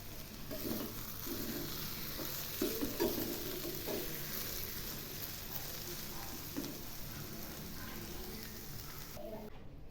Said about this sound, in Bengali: এবার নেড়ে চেড়ে নামাবো।